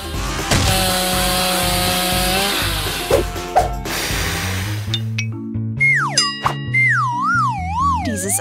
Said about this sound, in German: Genau, eine Kettensäge.